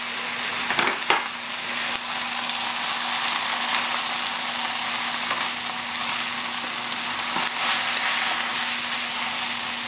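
Pad thai sizzling steadily in a hot pan as noodles are tossed with tongs, a continuous loud frying hiss with a few soft scraping stirs and no voices.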